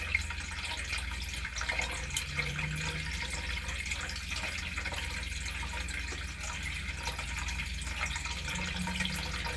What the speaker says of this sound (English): I'm sorry, I should have turned my water fountain off. I'm sure it's in the background.